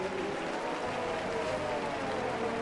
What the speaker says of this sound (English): Crowd clapping and cheering.